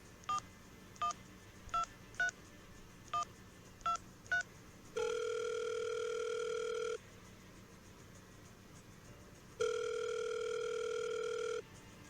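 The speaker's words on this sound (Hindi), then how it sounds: "अपने लैंडलाइन फोन का रिसीवर उठाकर अपने ऑपरेटर से" Eight quick touch-tone beeps from a landline keypad, then two long, loud ringback tones separated by a pause of near silence.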